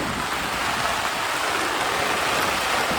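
Rainwater runs steadily along a small dug channel beside a shepherds' camp during a pre-monsoon storm, a continuous close, even trickling rush with no voices.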